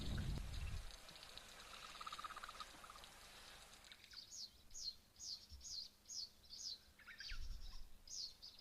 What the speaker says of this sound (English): those are some white-browed sparrow weavers as well as a northern grey-headed sparrow